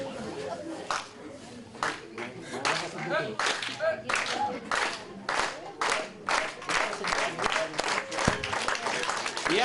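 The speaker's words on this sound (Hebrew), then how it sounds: "יעקב, מה זה המחיאות כפיים האלה?" An audience claps through a comedy improv sketch about women in labor, with irregular bursts of applause rising and falling across the stretch and no words spoken during it.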